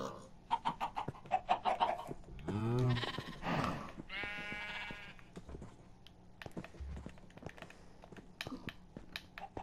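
Sheep bleat in the Minecraft Skyblock video game, two loud, wavering bleats close together in the middle, set against rapid clicking taps before and after.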